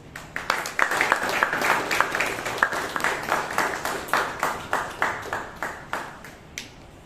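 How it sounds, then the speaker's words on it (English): Toastmasters club meeting audience in Bangalore claps for table topics speakers, a dense burst of applause that gradually thins into sparse, separate claps before fading out near the end. "Let's have a big round of applause"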